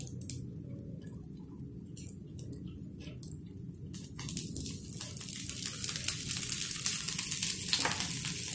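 Aloo tikki shallow-frying in a little oil over a medium flame gives a steady, soft sizzle with fine crackle that builds slightly louder toward the end, with no voices.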